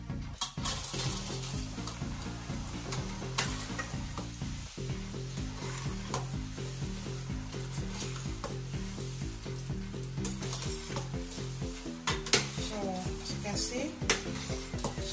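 Coated peanuts fry in hot oil with a continuous crackling sizzle, while a utensil stirs them and scrapes and clinks against the pan now and then, close and steady throughout.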